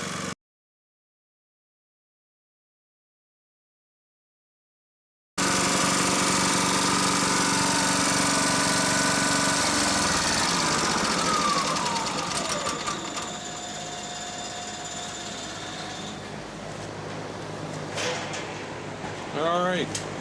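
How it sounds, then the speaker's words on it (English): A Champion 100302 inverter generator engine hums steadily, heard up close from the exhaust side, fairly quiet and even, starting after several seconds of silence and running continuously with slight shifts in tone. "I am on the exhaust side of the engine, which would be the loud side, but it's actually really quiet"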